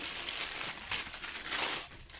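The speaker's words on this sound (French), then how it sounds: "papier sulfurisé qui se déchire" Parchment paper crinkles and tears on a pastry workbench while puff pastry dough is prepared, giving soft rustling bursts of crackle that swell and fade at low volume.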